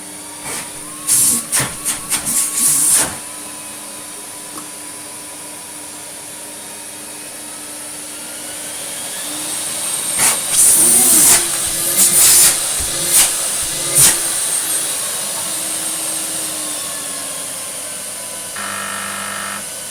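A Vax 6130SX vacuum cleaner with its pump running, a steady loud hiss and whine with bursts of clattering and sputtering near the start and in the middle, no talk.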